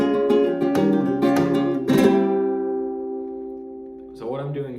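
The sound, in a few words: flamenco guitar playing a bulerías phrase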